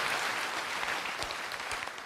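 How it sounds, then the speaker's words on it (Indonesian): A church congregation claps together during a Sunday morning service, a dense, steady wash of hand claps filling the room for the full two seconds without any voices on top. "Berikan tepuk tangan buat Allah kita."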